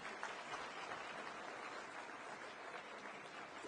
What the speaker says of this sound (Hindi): एक बार सभी के लिए जोरदार तालियां